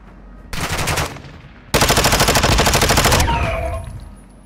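Automatic gunfire while shooting AI enemies in Call of Duty DMZ, heard as two loud, close bursts of rapid machine-gun shots, the second longer and ending with a fading ringing tail.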